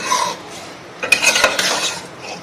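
Yakhni pulao is stirred in a pressure cooker pot with a metal spoon, giving close, loud scraping and clinking in a few uneven strokes over a light sizzle.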